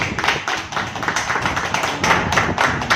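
A crowd claps steadily at a birthday celebration for a BJP district minister, producing a dense, continuous patter of many hands that stays fairly loud and even for the whole stretch.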